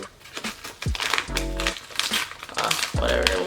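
Plastic mailer holding a delivered shirt being torn and ripped open, crinkling and tearing in several close, loud bursts, mixed with a speaking voice.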